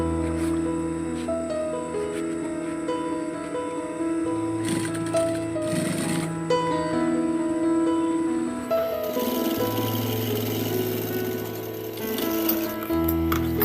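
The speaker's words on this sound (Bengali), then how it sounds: "সেলাই করে নেওয়ার পর এটির ওপর আরও একটি পাকা সেলাই দিয়ে নেব" A sewing machine stitches a fabric file cover bag, humming and whirring steadily up close for most of the stretch, with brief pauses and shifts in speed between runs of stitching.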